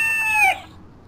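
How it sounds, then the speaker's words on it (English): A rooster crows in the Love Hina video game, a single short bright cock-a-doodle-doo that rises and cuts off abruptly, loud and alone over a faint background hum. "What's that? Cock-a-doodle-doo."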